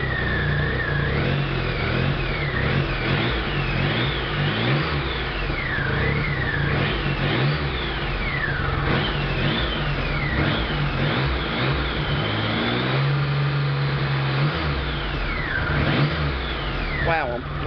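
A 2009 Triumph Rocket III motorcycle engine runs and revs, with repeated rising and falling pitch sweeps over a steady low idle, heard close up; the bike has a cam chain tensioner rattle.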